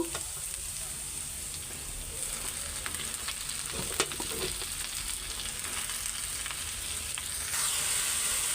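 Onion and jute greens fry in a pan with a constant crackling sizzle and occasional stirring scrapes, and the hiss grows brighter and louder near the end; it is close, with no speech.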